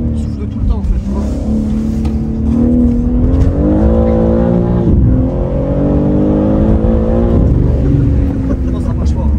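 A car engine with a constantly blowing turbo revs loudly and steadily on the road, its strained drone rising and falling in pitch throughout, with people talking over it.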